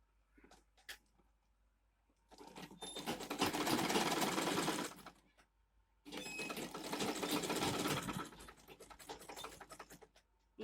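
A sewing machine stitching fabric for a mini bag, running in two long, loud, steady bursts separated by a short pause, close up with light handling sounds before and between.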